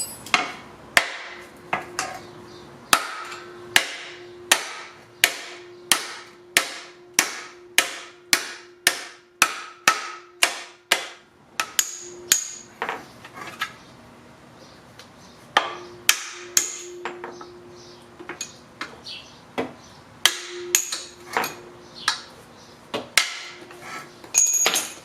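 Dozens of sharp hammer blows strike old trailing arm bushings out of a Honda Civic wagon's rear suspension, in steady ringing bursts with brief pauses, close and loud, with no talking.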